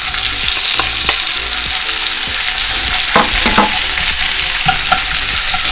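Peppers and onion for chicken fajitas sizzle loudly in a hot pan, a dense crackling hiss with intermittent spatula scrapes and clicks, close up and with no one speaking.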